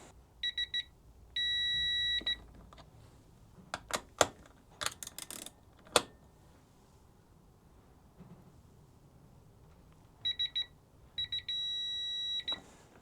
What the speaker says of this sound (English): Solid beep means you're at 5 Newton meter.